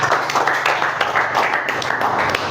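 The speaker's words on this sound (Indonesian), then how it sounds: "Beri tepuk tangan untuk Jessica" A class applauding a student in a mathematics lesson, a dense run of many hands clapping throughout, fairly close and steady, with no one talking over it.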